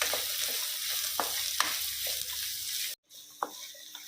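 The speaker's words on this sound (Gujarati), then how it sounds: "આ રીતના ધીમી ફ્લેમ ઉપર શાકભાજીને આ રીતના હલાવતું જવાનું અને કૂક કરી લેવાના" Bottle gourd, carrot and potato stirred in a pot over a low flame, a steady soft sizzle with intermittent spoon scrapes and a brief break near the end.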